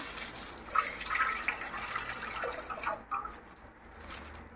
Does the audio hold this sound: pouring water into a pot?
yes